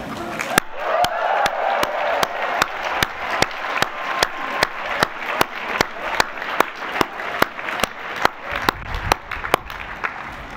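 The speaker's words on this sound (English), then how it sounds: "let's enjoy a collective whoop and round of applause" Commencement audience at Harvard Business School's 2022 ceremony breaks into sustained applause with cheering and whoops, a dense crowd roar punctuated by sharp claps, loud and continuous for the whole stretch.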